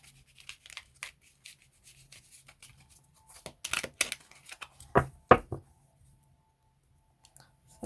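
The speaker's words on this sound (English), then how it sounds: "I'm just going to give it a quick shuffle." A tarot deck gets a quick hand shuffle during a card reading, with a few close, crisp riffling bursts in the middle after scattered light clicks and card handling.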